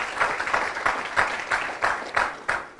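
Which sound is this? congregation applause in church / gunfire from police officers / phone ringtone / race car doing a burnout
congregation applause in church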